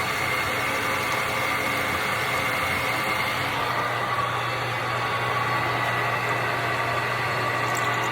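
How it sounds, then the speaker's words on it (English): A machine tool cutting a motorcycle jackshaft brace in a workshop, holding a steady droning hum with a high whine through all eight seconds, loud and near with no talk. "I'm over here machining another part of his bike. machining the jack shaft brace."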